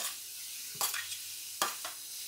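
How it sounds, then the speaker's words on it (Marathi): Onions frying in a pan for paneer momos, a steady soft sizzle with two sharper stirring scrapes standing out near and clear, no talking. "आपण आधी कांदा भाजून घेऊया"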